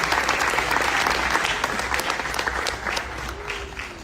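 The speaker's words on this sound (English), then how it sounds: "Let's give Ryan one more big round of applause." A crowd applauds Ryan Williams at his reclassification announcement. The clapping is dense, loud and sustained for the whole stretch and tapers slightly near the end.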